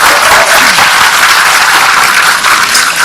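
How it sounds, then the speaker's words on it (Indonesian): A crowd applauds steadily, dense clapping filling the whole stretch at an even, loud level with no talking on top. "Tepuk tangan buat Pak"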